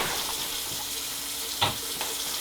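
Water runs steadily from a tap while someone washes their hands, a constant close hiss and splash with a couple of brief sharper splashes partway through.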